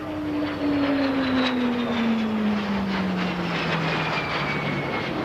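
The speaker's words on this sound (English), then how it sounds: "Our first jet, the de Havilland Vampire." A de Havilland Vampire twin-seat jet trainer of the RNZAF flying at an air show at Auckland International Airport, with a steady, loud engine roar and a slowly falling tone as it passes and moves off.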